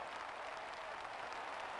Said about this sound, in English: I see a lot more cheering for Bannock, though, than for Gideon